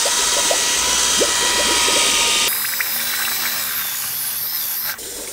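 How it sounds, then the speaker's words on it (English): An electric drill fitted with a paddle mixer churns a liquid feed mixture, a steady whirring drone with rattling mechanical clicks that shifts in tone midway, loud and close with no talking. "I use a drill with this mixer on there for like mortar."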